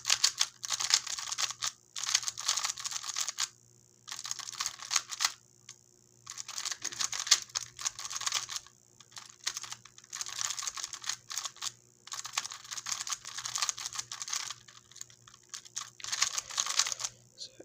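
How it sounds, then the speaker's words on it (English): A Giiker Supercube i3s smart cube is turned in fast, clacky bursts of rapid plastic clicking, separated by short pauses and recorded close up. "this cube has quite a clacky, but also kind of in a good way sound, and then clacky feel as well"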